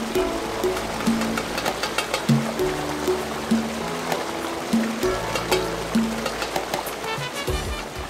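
Waterfall at a wedding venue, a steady rushing wash of falling water under a wavering, droning musical or engine-like tone that comes and goes.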